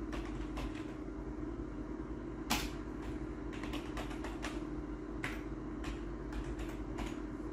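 Keys clattering on a computer keyboard as a terminal command is entered, a sparse run of individual clicks at an irregular pace with one sharper key strike, over a steady low electrical hum.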